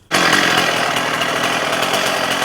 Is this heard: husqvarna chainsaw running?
yes